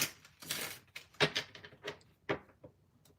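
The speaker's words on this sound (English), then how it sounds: "I just want to give it a better shuffle" Stiff tarot cards are shuffled by hand in quick papery bursts and flicks, close and fairly loud. Several riffles and slaps come at an irregular pace with short pauses between them.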